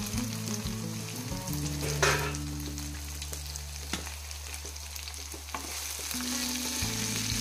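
Brinjal and dried prawn curry simmering under a lid in a pan gives a steady, close sizzle and bubbling crackle throughout, with a low hum beneath and no talking.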